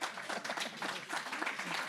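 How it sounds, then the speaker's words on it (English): Brief, fairly quiet round of audience applause in a convention hall at a fan event, irregular clapping rising and falling over two seconds. "Round of applause, please."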